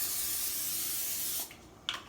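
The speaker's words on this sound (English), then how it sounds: "I'm going to take a cookie sheet that looks like this, and I'm going to spray it with Pam or some kind of shortening." Pam cooking spray hisses onto a cookie sheet in one steady burst of about a second and a half, followed by a short second spritz, close and clear with no talking.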